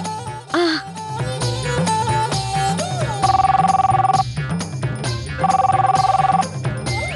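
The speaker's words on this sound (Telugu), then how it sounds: "అయ్యో, అరే ఈ టైంలో ఎవరు ఫోన్ చేసి ఉంటారు?" Electronic ring of a landline telephone in a home, two sustained bursts of a rapid trilling tone about a second long each, heard over loud dramatic background music.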